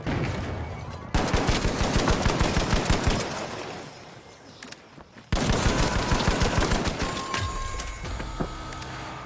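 Rapid automatic gunfire from a light-class weapon in The Finals, loud bursts with a brief lull before a second sustained burst, no talking.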